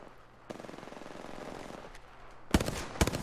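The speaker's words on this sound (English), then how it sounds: "Shots fired, and they're hitting me." Automatic gunfire rattles in Apex Legends, a fast, steady stream of shots followed by two louder, sharper bursts close by near the end.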